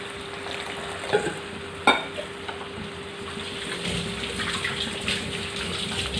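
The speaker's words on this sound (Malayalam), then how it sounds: "ഇനി ഗ്രേവിക്ക് നമുക്ക് ഒരു 1/2 ഗ്ലാസ് വെള്ളം ഒഴിച്ച് കൊടുക്കണം" Water is poured into a sizzling pan of chicken curry, a bubbling, splashing rush over steady frying hiss, with a couple of utensil knocks near the start.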